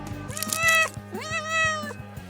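A cat gives two drawn-out meows, close and clear, over a steady low electrical hum with soft repeating ticks in a kitchen setting.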